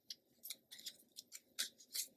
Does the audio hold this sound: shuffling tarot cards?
yes